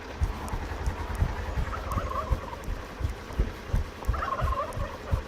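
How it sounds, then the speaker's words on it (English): Turkeys gobble in repeated bubbling bursts, a flock heard up close and fairly loud, with rapid warbling calls rising twice over a rough, busy background. "damn turkeys are on the way."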